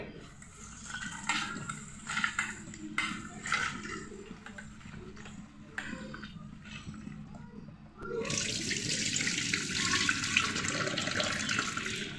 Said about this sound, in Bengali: ডাল আমার পরিষ্কার করে ধোয়া হয়ে গেল